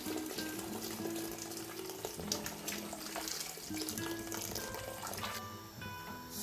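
Water pours steadily from a five-cup kettle into a cooking pot for chicken biryani, a continuous close splashing stream that runs throughout with small clinks near the end.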